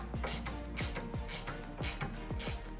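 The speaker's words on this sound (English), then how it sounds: "tighten up the Rubicon Rock Rail bolt that goes in through the tub" A ratchet clicks in quick repeated strokes while tightening a rock rail bolt through the tub of a 2007-2018 Jeep JK Wrangler, close and clear, about six pulls in steady rhythm.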